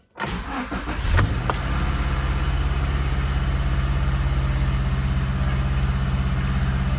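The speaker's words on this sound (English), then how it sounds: "We'll start the vehicle up and make sure that light goes away before we do anything else." A 2016 Subaru Crosstrek parked on ramps after an oil service cranks briefly and catches, then settles into a steady, even idle close by.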